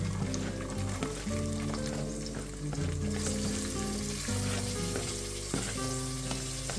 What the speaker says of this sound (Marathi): चला तेल टाकलं आहे, नंतर हे टाकलं आहे आला लसूण कढीपत्ता. आता आपण कांदा टाकूया यामध्ये